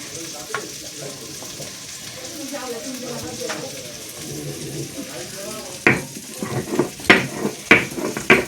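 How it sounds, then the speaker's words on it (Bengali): Ginger is ground by hand on a grinding stone, with a quiet stretch and faint voices in the background before a run of loud, rhythmic scraping strokes close by toward the end. "তো এখন আদাটা বেটে নেব।"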